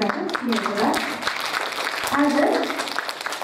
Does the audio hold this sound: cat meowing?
no